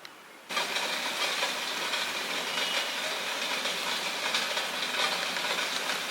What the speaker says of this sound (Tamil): இப்போ வந்து மூடி வச்சுக்கலாம் இப்போ நல்லா அவியட்டும்